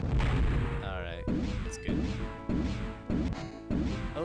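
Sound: spaceship hitting an asteroid in Privateer video game

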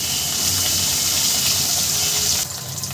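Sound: fish frying in oil

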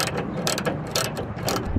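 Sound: ratchet tightening 12 millimeter bolt on Miata radiator

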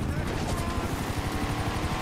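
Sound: helicopter in a video game

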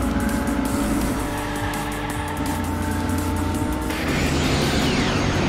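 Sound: race car engine in video game Hot Wheels Unleashed

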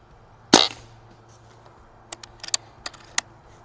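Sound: Barra 1100z .22 PCP air rifle shots

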